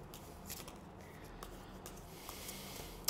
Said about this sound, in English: I'm going to pull your 3 cards just after a quick bit of shuffling.